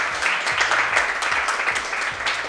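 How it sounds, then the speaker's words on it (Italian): Secondary-school students from several classes at an Italian scientific high school applaud during a televised programme, a dense, continuous patter of many hands clapping at moderate volume with no speech over it. "Fatevi un applauso, ragazzi."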